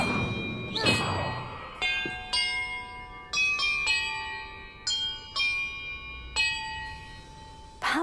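Bells ringing in a Hogwarts Legacy puzzle, a series of clear, separate metallic chimes at varied pitches struck one after another with short pauses and ringing decays, and a soft thump near the start.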